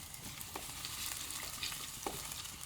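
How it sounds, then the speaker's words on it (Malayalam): Chopped ginger and garlic frying in a hot, cracked clay pan, a faint continuous sizzle with occasional light stirring clicks, close but quiet. "അതിലേക്ക് ഇഞ്ചി അരിഞ്ഞതും വെളുത്തുള്ളി അരിഞ്ഞതും ഇട്ടു കേട്ടോ."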